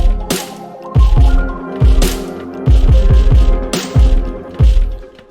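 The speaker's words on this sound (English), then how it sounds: "I believe I started with drums." Dark trap beat drums built in FL Studio with boosted sub bass, heavy booming kicks hitting in a syncopated pattern with snappy snares on top and sustained low tones between, loud and upfront with no talking.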